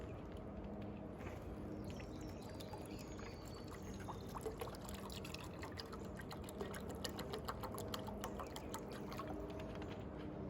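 Tap water pours steadily into a cooking pot at an outdoor camp, a continuous splashing trickle lasting throughout at moderate loudness, with no talk.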